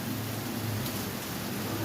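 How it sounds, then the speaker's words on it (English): Rain falling outside at night, a steady, even hiss of drops on surfaces that fills the clip with no pauses. "Now you can hear it raining"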